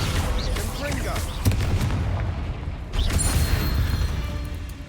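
Fiery blasts from the Confringo explosion spell in Hogwarts Legacy on PS5, with two heavy booms about a second and a half apart over steady game noise and voice-like sounds.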